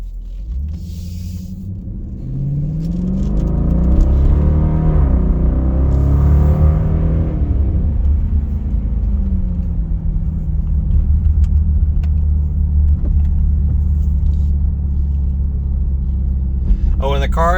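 A 2017 Dodge Durango R/T with a Mopar upgrade exhaust rumbles as it pulls away, swelling to a loud, deep drone that holds steady while cruising in regular mode.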